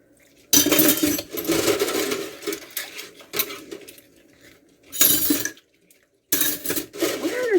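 Metal spoons clatter and clink in a kitchen sink with running water, in several loud bursts separated by short silent gaps.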